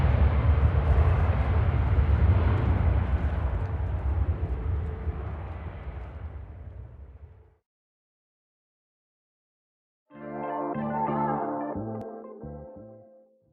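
An airplane passes overhead as a broad, loud roar that fades out over several seconds, followed by silence and then a separate muffled tonal sound.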